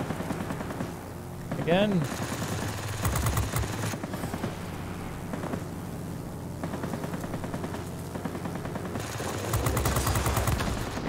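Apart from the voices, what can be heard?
aircraft machine gun fire in World of Warplanes video game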